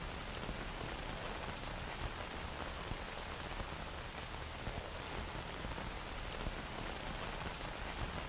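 Rain pattering on a helmet and mask in the STALKER video game, a dense, steady hiss of drops that stays constant and close with no voices.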